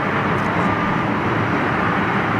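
Big heater blowers roar in a large British Airways hall, a loud, steady broadband rumble with no breaks.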